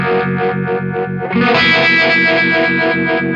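An electric guitar runs through an Eastwood Black Box Univibe-style pedal in chorus mode, mixing a driven, distorted tone with a warbling chorus. A sustained chord pulses rhythmically, then a brighter, fuller strum takes over, loud and with no voices.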